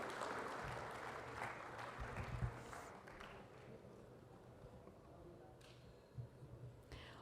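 Applause at an award ceremony honoring carpenters and contractors, a scattered crowd clapping with a few louder bursts and murmuring voices underneath, fairly steady across the stretch.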